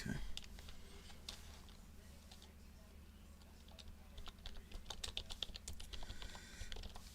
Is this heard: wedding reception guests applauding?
no